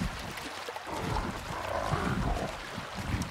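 A loud river rushes continuously in the video game ARK: Ragnarok, a dense, steady wash of flowing water with no breaks or voices.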